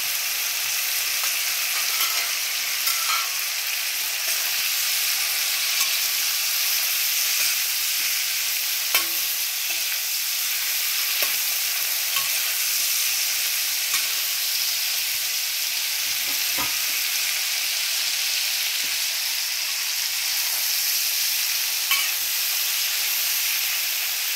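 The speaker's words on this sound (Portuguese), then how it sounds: "Enquanto ela vai fritando aqui, gente, terminar de fritar" Bacon, calabresa sausage and carne de sol fry together in a pan for feijão tropeiro, giving a steady, close, continuous sizzle and crackle with no talking.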